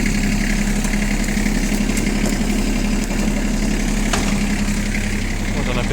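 ISEKI SIAL TF223F tractor engine running in first gear, a steady loud close diesel chug and drone with constant vibration throughout.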